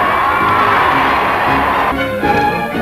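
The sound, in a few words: Parisian crowd cheering along the route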